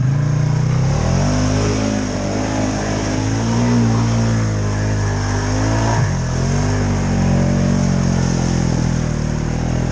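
A loud Polaris Sportsman 570 ATV engine on 31-inch Outlaw tires revs up and down in rising and falling pitch sweeps in swamp water, close by and continuous throughout.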